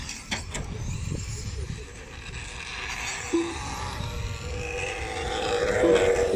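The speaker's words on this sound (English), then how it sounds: "Oh, that's not a good noise from Dave Warner's car." An RC race car at a national titles finals day gives off a rough, strained engine noise as it runs, with steady motor drone and a brief sharp tone in the middle.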